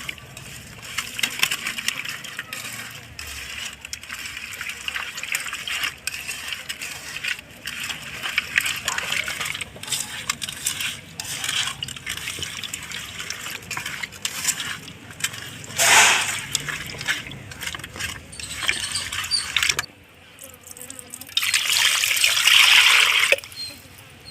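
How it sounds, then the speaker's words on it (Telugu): Fresh fish being washed in a basin of water, with steady trickling, sloshing and splashing close by and a louder pour and gush of water near the end, no voices. "మళ్ళీ ఇందులో నీళ్ళు పోసుకొని అందులో ఉన్న చేపలని ఇందులో వేసుకుందాం"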